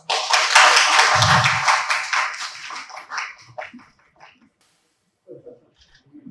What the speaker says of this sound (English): It would be great to applaud this historic moment.